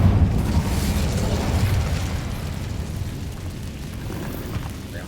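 A fiery Incendio spell cast in the Hogwarts Legacy video game, a loud, sustained roaring burst of flame with deep rumbling that starts strong and slowly eases over several seconds, with no talking.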